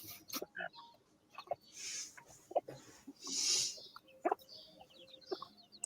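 Little chickens cluck quietly nearby while dogs eat biscuits outdoors, giving scattered short clucks and squawks spread across the moment amid faint background noise.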